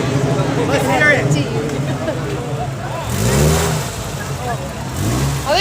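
A classic car engine revs at a street cruise in Grand Rapids, Michigan, a rumbling idle with a couple of throaty rev swells, heard up close amid crowd chatter and nearby talking.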